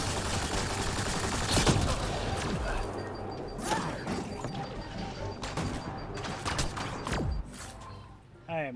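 Bursts of gunfire in the sci-fi shooter Mass Effect Andromeda, with dense overlapping shots at the start and sharper isolated cracks later, mixed with mechanical clatter and game effects.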